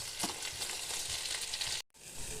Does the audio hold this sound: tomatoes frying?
yes